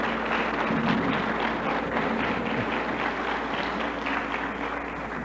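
An audience at a talk on Spiritism claps in sustained, dense applause at the close of the lecture. The clapping stays steady and even the whole time, with no voices over it.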